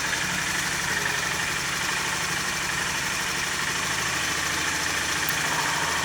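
A Honda GB350C single-cylinder motorcycle engine idles steadily with an even low, pulsing thump, close and constant throughout with no voices.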